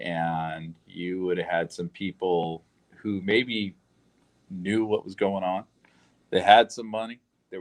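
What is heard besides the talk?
No everyday noises stand out.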